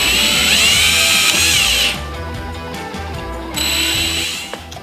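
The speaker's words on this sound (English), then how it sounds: "So just go drill these out." A power drill bores out rivets on an MGB heater box. The motor whines loud and close, eases off to a lower hum midway, then spins up hard again before stopping.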